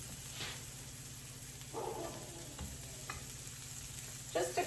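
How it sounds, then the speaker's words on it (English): Kale sautés briefly in a pan with black pepper, giving a low continuous sizzle with occasional spatula stirs and scrapes, growing busier near the end. "Just a quick saute."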